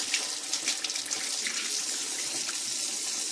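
Hair extensions are rinsed under a running sink tap. The water flows steady, close and loud throughout, with no talking.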